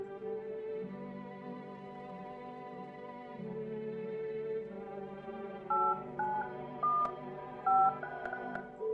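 Telephone keypad tones in a horror video game, a run of distinct DTMF beeps sounding one after another over a steady low musical drone, clear and fairly loud with no talking.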